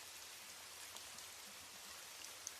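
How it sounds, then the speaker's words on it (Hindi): Rain falls steadily outdoors at a campsite at night, a faint, even patter with a few soft drops standing out near the end, no voices. "ये बारिश भी तुम्हारी वजह से ही बंद नहीं हो रही है"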